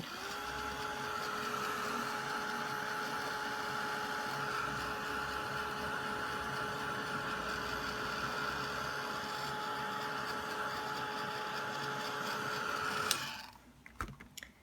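A heat tool blows a steady, loud whirring drone for about thirteen seconds while drying layers of Tim Holtz Distress Crayon background, then switches off and quiet follows.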